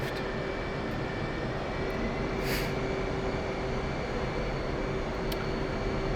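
An F/A-18C jet taxiing toward the runway in the DCS simulator, a steady loud engine whine and hum droning continuously with no talk.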